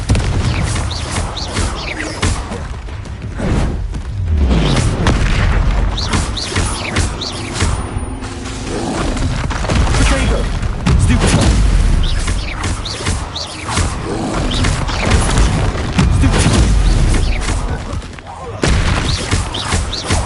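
Confringo blasting curses explode again and again in a Harry Potter video game, loud booming blasts and crackling bursts packed densely across the whole stretch with hardly a pause.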